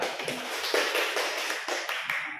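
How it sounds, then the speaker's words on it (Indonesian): A class claps together for a group that has just finished presenting, a dense burst of many hands applauding steadily for a couple of seconds. "kita berikan tepuk tangan kepada kelompok 2 yang sudah mempresentasikan hasil diskusinya"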